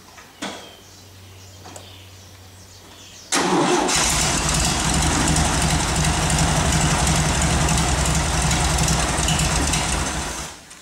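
A Volkswagen Fusca engine with a ten-coil setup cranks and catches, leaping into a loud, steady idle that runs on evenly after some quiet handling noises.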